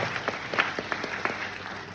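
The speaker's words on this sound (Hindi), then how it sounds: "एक बार जोरदार तालियां मैम के लिए।" Brief applause from an audience at a Hindi motivational seminar, a soft spread of claps rising and fading over a couple of seconds.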